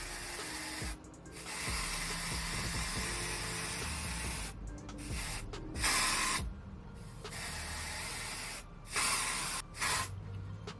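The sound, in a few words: spraying lace tinting spray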